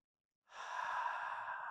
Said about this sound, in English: And then breathe out through the mouth.